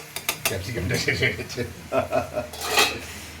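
Carrot and onion frying in white oil while a utensil clatters and scrapes against the pan in quick irregular knocks, with a light sizzle underneath and a faint voice in the background.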